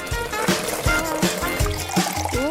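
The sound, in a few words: water being poured to water seeds in soil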